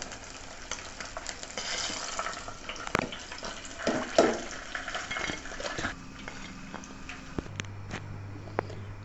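Lotte, Bombay duck fish, fries in a pan with soft, steady sizzling and occasional stirring clinks, quiet and close, with no talk.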